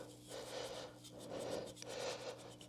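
A Scotch-Brite pad scrubs the metal electrodes of a heating furnace in slow, repeated rubbing strokes. The rasping is quiet and close, over a low steady hum.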